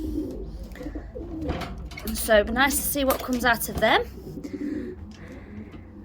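Racing pigeons in a breeding loft give throaty rolling coos close by, a few rising calls in a cluster, while a person talks over them.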